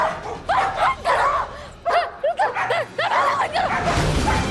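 Dogs barking loudly and close by in a Hindi TV drama scene, a rapid run of excited barks and yips in uneven bursts, with a brief pause partway through.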